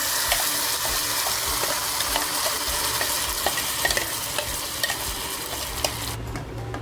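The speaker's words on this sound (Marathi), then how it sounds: "गॅस बारीक करून घेते आणि तो मसाला टाकते" Masala for a Kolhapuri white mutton curry fries in hot ghee and oil, a dense, constant sizzle close by with light scraping and clinking of a stirring spoon, cutting off abruptly near the end; no voices.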